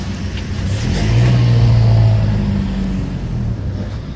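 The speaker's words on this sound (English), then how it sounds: "they're going to just motor around the channel" A boat motors around a harbor channel, its engine a steady low rumble that swells in the middle and holds through the stretch, fairly close and alone with no talk.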